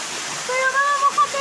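A waterfall rushes in a constant close wash, with a voice rising in brief tones over the splashing water.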